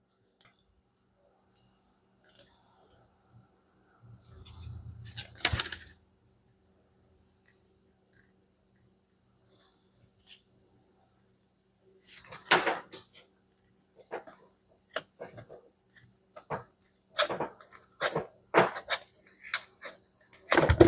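Quiet room with scattered clicks and rustles, then several crisp snipping cuts of sharp scissors through stiff belt webbing, close and intermittent.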